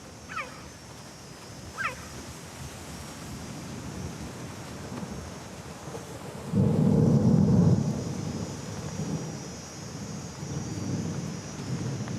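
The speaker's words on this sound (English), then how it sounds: "A storm is approaching." An approaching thunderstorm over the African savannah as wind picks up: a low, rolling thunder rumble swells for a couple of seconds over constant windy, rain-like noise, with a few faint high animal cries early on.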